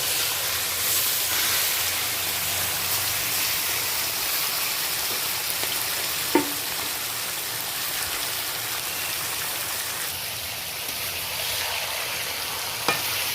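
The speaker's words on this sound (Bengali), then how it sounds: "এই পর্যায়ে আমি সমস্ত মাংসটা ঢেলে দেব" Chicken pieces tipped into hot oil with whole spices hiss in a dense, loud, continuous sizzle close by, steady throughout, with a couple of faint clinks and no voices.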